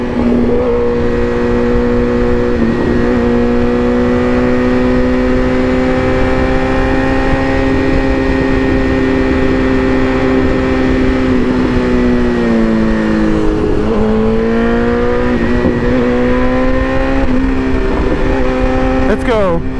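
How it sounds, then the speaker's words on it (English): A BMW S1000RR sport motorcycle accelerates hard on a highway at night. Its engine whine climbs steadily through the gears, dips at a shift, then climbs again, loud and continuous, with wind noise underneath. "We're getting a little late night highway pulls in"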